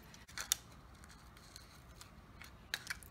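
Scissors snip through a plastic bottle, a few crisp close cuts in two short bursts separated by quiet, no speech.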